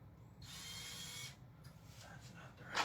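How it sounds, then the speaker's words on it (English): A Ryobi power drill fitted with Milwaukee bits runs in short whirring bursts to remove bolts from subwoofers, quiet and close, with a brief pause between runs. "Break them free with the Allen key and then zip them out with the drill."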